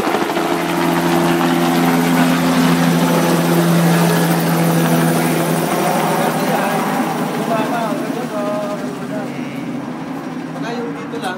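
A helicopter on a ride thunders loudly and continuously with a pulsing rotor chop and engine whine, easing slightly toward the end, while people talk under the noise.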